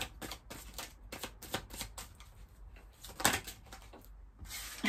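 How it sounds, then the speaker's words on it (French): Oracle cards being shuffled by hand in a quiet room, a series of soft riffling and slapping bursts with brief pauses, one sharper flick midway and a longer riffle at the end. "On va prendre quelques cartes de l'oracle des Médéores."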